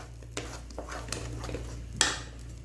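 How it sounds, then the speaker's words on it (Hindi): A metal spoon stirs and scrapes bread halwa cooked in ghee in a pan over a slow flame, giving a few sharp clinks and scrapes over a low steady hum, with no talking. "जब तक इसका घी बाहर नहीं आता तब तक मैं इसमें चमचा हिलाती रहूंगी।"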